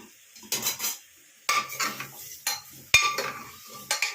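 A metal spoon scrapes and clinks around a pot while chicken stew is stirred, in several short bursts separated by brief pauses, fairly close and clear.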